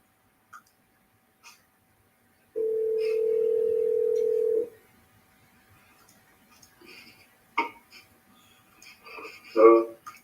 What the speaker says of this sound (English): Now, this is the phone call. Here we go. I'm calling him online.